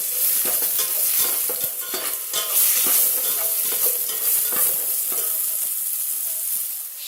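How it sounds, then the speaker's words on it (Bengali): Cauliflower fries in oil with asafoetida, salt and turmeric alongside beans and okra, a steady loud sizzle broken by repeated scraping stirs of a spatula in the pan, close up with no talking. "ফুলকপিগুলো আমি একটু নুন আর হলুদ দিয়ে হিং দিয়ে ভেজে নেব।"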